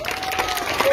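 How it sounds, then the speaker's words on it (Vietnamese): A crowd at a parish youth event claps in a brief, steady burst of applause lasting about a second. "Chúng ta vỗ một tràng pháo tay."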